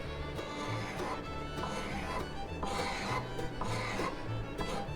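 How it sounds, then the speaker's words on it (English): A carving hatchet blade drags across wood in repeated rasping scrapes, a continuous rough rubbing texture at close range beneath a low hum. "You're just scraping it, essentially."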